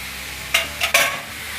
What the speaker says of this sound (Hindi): अब पालक को सब्जी के साथ हम अच्छे से मिक्स कर देंगे